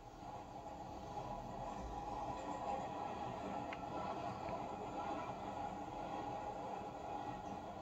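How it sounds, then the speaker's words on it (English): A steam locomotive running tender first rumbles steadily at a distance, a low continuous roll with faint mechanical rattle and no voices. "running tender first, the locomotive is subject to a speed restriction of 40 miles an hour"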